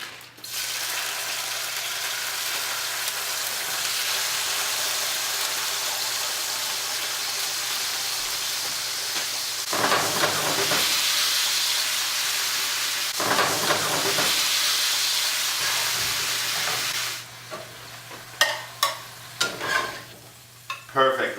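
Salmon and halibut fillets frying in a pan, a steady loud sizzle and hiss with occasional stirring or shifting scrapes, then sharper crackles and clatter toward the end, with no talk.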